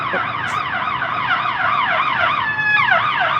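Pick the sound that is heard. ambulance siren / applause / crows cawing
ambulance siren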